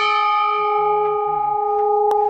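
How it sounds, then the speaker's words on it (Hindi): A heavy bronze temple bell at Baijnath temple in Uttarakhand rings out once, sustaining with long, pure overtones, then is struck a second time with a sharp clang near the end, loud and close. "घंटी इतनी भारी है ना हिलाने में मेरा पूरा शरीर हिल गया"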